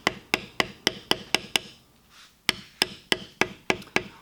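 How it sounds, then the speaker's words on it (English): Sharp, evenly spaced mallet strikes on a metal beveling tool tooling leather, about fifteen close, loud taps in a steady rhythm with a brief pause midway. "One final thing that I would point out as I near the end of this beveling"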